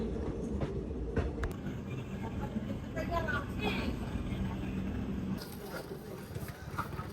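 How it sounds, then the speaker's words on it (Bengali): The 13142 Teesta Torsa Express rolls on its run from New Coochbehar toward Kolkata, with a steady dense rumble and rattle of wagons on track close by, while people talk over the noise. "ট্রেনটা অনেক টাইমের আগে চলে আসছে এখানে"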